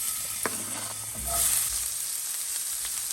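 Chopped garlic and half an onion frying in a splash of oil in a pan, a steady close sizzle with a brief louder crackle burst as the ingredients hit the hot oil, no talking.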